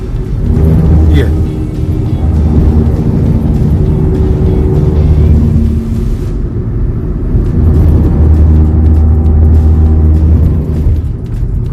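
A car drives along the Ganga Expressway, a loud steady road rumble and engine drone with repeated bursts of harsher vibration as the tires cross rumble strips, with someone talking over it.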